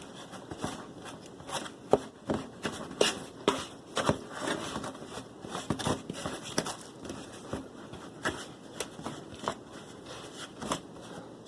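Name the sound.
fork crumbling apple crisp topping together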